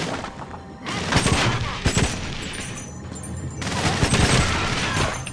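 Loud bursts of enemy gunfire in GoldenEye: Rogue Agent during an infiltration of Octopus territory, coming in two dense volleys with a brief lull between.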